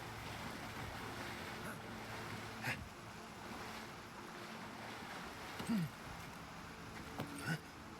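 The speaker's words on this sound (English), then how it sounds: "A big waterfall." A big waterfall in the video game Avowed gives a steady, rushing wash of falling water, moderately quiet and continuous, with a few faint brief blips over the constant roar.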